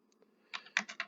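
Keystrokes on a computer keyboard entering router configuration commands: a couple of faint taps, then a quick cluster of sharper, close clicks in an uneven typing rhythm, with no talking.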